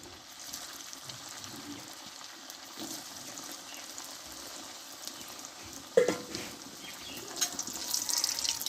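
Semolina sweets frying in hot oil in a home kitchen, a steady soft crackling sizzle running throughout, with a brief louder clatter near the middle and slightly busier bubbling toward the end.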